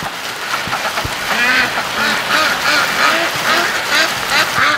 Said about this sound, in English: we got more ducks to come around here since I called